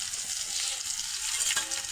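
Onion fries in hot oil with a close, steady sizzle and soft stirring scrapes, loud and continuous over the short stretch.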